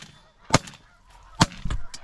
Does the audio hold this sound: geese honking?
yes